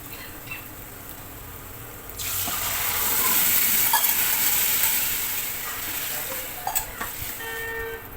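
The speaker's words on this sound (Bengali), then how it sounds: "এখন এর মধ্যে সিদ্ধ করা ডালটা দিয়ে দেব।" Boiled lentils poured into a hot pan of fried spices for a hotel-style vegetarian dal, setting off a loud, sustained sizzle that swells after a quieter start, with a few sharp utensil knocks near the end.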